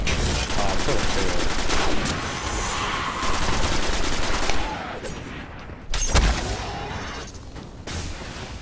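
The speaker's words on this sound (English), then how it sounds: "Shooting level 11 reavers in the head is a huge help" Rapid gunfire from shooting enemies in Destiny on PS3, sustained bursts of automatic fire with short pauses and a sharp burst around six seconds, faint talk in the background.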